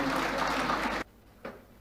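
A crowd claps loudly for Satish Patla at the Yakshadhruva Patla tenth-anniversary closing event at Adyar Garden. The applause is thick for about a second, then cuts off abruptly and leaves a short, fainter burst.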